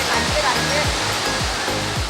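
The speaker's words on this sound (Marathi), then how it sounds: "आमच्या गावातच ही एक सुंदर अशी नदी वाहते" Water rushes steadily and loudly, a constant broad roar of a village river in Konkan, with no pauses.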